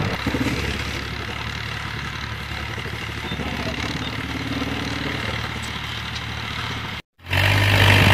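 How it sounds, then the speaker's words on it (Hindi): A tractor engine rumbles steadily for several seconds on wet, muddy farm ground, a loud low drone that cuts out briefly near the end before returning stronger and closer. "ट्रैक्टर आ रहा है"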